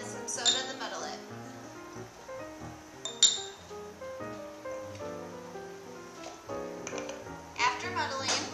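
Blackberries, strawberries, raspberries, blueberries and jalapeño muddled with soda in a glass at a restaurant bar, heard as clinking glass and wet crushing under steady background music, with a few brighter clinks.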